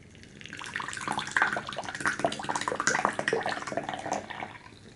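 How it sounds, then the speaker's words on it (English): Ripe Pu'er tea, a 2007 Xiaguan tuo, is poured from high up into a vessel, a splashy, bubbling liquid stream that starts softly and grows louder and busier, close and continuous for several seconds. "pouring as high as we can, cooling the tea down, and also making a big old mess"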